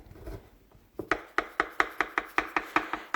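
A knife chops down through a pan of brownies in a quick run of about ten crisp, evenly spaced cuts that hit the pan, close and clear, with no talk.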